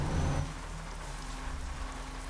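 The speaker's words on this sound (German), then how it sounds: "Es regnet wieder mal." Steady rain hisses in Euro Truck Simulator 2 on a West Balkans haul, a dense even wash of drops heard from inside the truck cab, with a brief louder low rumble at the start.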